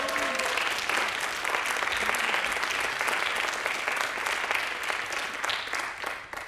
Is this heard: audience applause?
yes